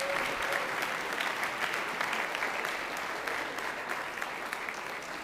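An audience at an awards event gives a round of applause, dense continuous clapping from a crowd that holds steady for several seconds and eases slightly toward the end, with no talk.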